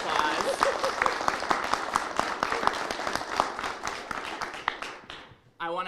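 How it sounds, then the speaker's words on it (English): An indoor audience at a congressional caucus event claps loudly for a representative in dense, continuous applause that slowly thins, then cuts out abruptly as a voice starts speaking at the very end. "Let's give him a round of applause."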